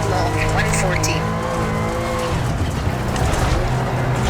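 A rally car in EA Sports WRC brakes and skids, with engine tone dropping into a rough, noisy tire scrub and gravel rush, loud and close, while a voice talks over it.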